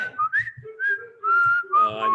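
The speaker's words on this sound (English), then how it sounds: "Whistle again." A person whistles a loose, wavering tune close up, several sustained notes sliding up and down with short breaks between phrases, with no talking over it.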